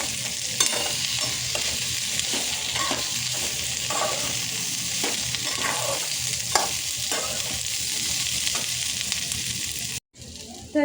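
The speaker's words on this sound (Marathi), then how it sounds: "तर मस्त गोल्डन होईपर्यंत भाजून घेऊया आपण कांदा।" Sliced onion sizzles steadily in a hot pan while being roasted golden for a rustic chickpea curry, with a spoon scraping and stirring at regular intervals throughout.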